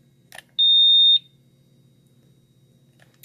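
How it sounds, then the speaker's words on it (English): A Quest Q2 NiCd/NiMH smart battery charger boots up with a short chirp followed by a single sustained high-pitched beep lasting about half a second, then quiet with a faint click. "A little boot up sequence is the beeping."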